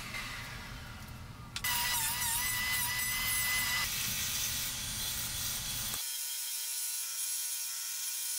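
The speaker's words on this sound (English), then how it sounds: "using a router to make circles with a center spindle in the middle." A router with a center spindle cutting circles in wood for a speaker front panel: a steady, high power-tool whine and cutting noise running for several seconds before stopping abruptly.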